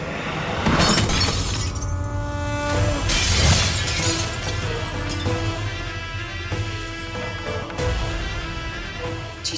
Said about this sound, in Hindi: शीशा टूट गया